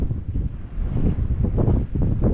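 Strong wind buffeting the microphone outdoors on the water during trout fishing, a continuous low rumbling roar with gusty surges and no talking.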